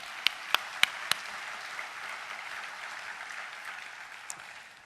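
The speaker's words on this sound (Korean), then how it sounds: "박수 한번 치시죠." An audience at a 2013 opening worship service claps, beginning with a few sharp separate claps that quickly swell into a steady, moderate wash of applause from a large crowd, fading slightly toward the end.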